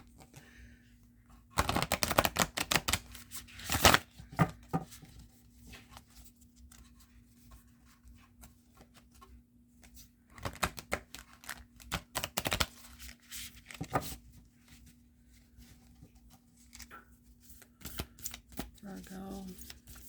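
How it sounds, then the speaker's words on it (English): Hexagon-shaped oracle cards are shuffled by hand in several uneven bursts of rapid papery riffling and slapping, close and crisp, with quieter pauses between bouts and a low steady hum underneath. "They're awkward to shuffle because they're hexagons"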